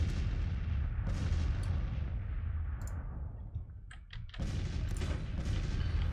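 Booming cannon fire in the Civil War strategy game Grand Tactician, a dense continuous roar of artillery with a brief lull, clicks, then a renewed burst of firing.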